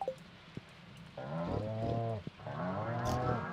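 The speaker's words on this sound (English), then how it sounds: "Petting all the moo cows" Cows mooing on a farm in Stardew Valley, two long drawn-out moos in a row, clear and close against a quiet background.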